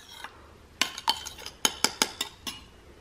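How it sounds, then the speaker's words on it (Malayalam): A spoon stirs a homemade hand sanitiser mixture in a hard container, making about ten bright clinks against the sides in an uneven rhythm after a short quiet start, close and alone with no voices. "നന്നായിട്ടൊന്ന് വിസ്ക് ചെയ്യോ ജസ്റ്റ് സ്പൂൺ കൊണ്ട് മതി വേറെ ഒന്നും വേണ്ട ഇങ്ങനെ നന്നായിട്ട് മിക്സ് ചെയ്ത് കൊടുക്കുക"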